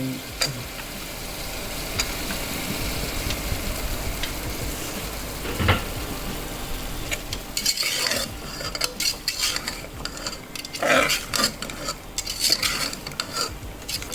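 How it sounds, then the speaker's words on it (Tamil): Tender jackfruit pieces sizzle in hot oil while a utensil stirs and scrapes the pan, the clatter growing louder and busier toward the end. "அந்த பிளாக்காய் அள்ளி போட்டுக்கலாம் எண்ணெயில் வதக்கிக்கலாம்"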